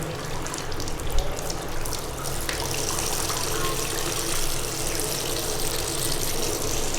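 Water running from a tap fed by a geyser on a solar-powered home setup, a loud, steady close-up gush that starts with a splash and continues unbroken, with no talking.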